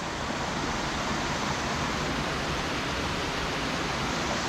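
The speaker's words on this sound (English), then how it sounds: "Cool little waterfall." A small waterfall on an alpine hiking trail in the Alpine Lakes Wilderness of Washington rushes in a steady, loud, broadband roar close by, unbroken throughout with no voices.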